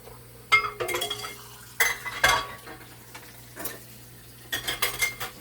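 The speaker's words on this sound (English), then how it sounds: "let me just finish mixing this together" Muffin batter being mixed in a bowl: bursts of scraping and clinking utensil strokes against the bowl, separated by short quiet pauses, close and moderately loud.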